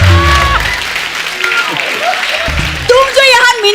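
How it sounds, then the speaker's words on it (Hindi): Loud applause from a studio audience on The Kapil Sharma Show, steady clapping with music and voices mixed in throughout. "जोरदार तालियां एक बार"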